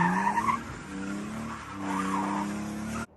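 A car drifts with its tires squealing and skidding in a sustained high wail over engine noise that holds for about three seconds before cutting off; no talking.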